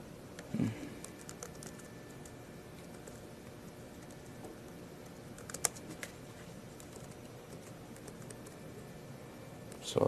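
Quiet typing on a computer keyboard while working in MATLAB, soft scattered key clicks with a couple of sharper taps, faint and close against a hissy room background.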